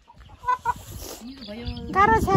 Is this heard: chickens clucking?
yes